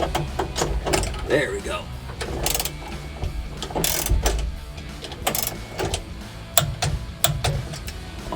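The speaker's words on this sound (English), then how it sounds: "I'm going to go ahead and torque it down with my torque wrench" A torque wrench ratchets in quick clicking bursts while tightening a 3-point front seat belt bolt in a Jeep Wrangler YJ, close by, with someone talking over it.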